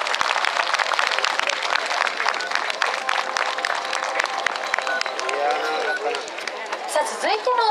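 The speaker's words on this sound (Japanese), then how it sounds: "どうぞ大きな拍手をお送りください。" An outdoor crowd gives sustained, dense clapping after a Sasara dance at Otsuka Shinto shrine, with voices audible near the end as the applause continues.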